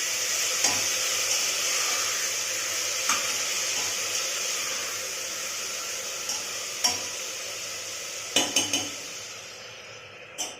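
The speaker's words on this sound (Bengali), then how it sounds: "সবজিটা দিয়ে নাড়াচাড়া করবো।" Vegetables fry with a steady sizzle in a pan as a utensil stirs them, giving intermittent scrapes and clinks of metal against the pan over the continuous hiss.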